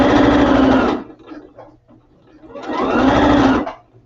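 A home sewing machine runs fast in two loud bursts, straining to push the needle through sticky gunk, with a short quieter pause between the runs.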